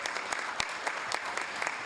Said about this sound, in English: Let's give a big round of applause for all the commissioners in the room, right?